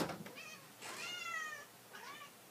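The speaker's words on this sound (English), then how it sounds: "now my little kitty wants to get in" A house cat meows repeatedly at a door, wanting to be let in: three close, plaintive meows with rising and falling pitch, heard clearly in a quiet room.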